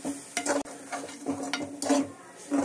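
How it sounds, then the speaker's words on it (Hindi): Wheat flour halwa being stirred as sugar is mixed in, a homemade breakfast dish: short scraping strokes of a spoon against the pan over a soft sizzle, moderately close, with no speech. "और इसको अच्छी तरह से मिक्स करेंगे"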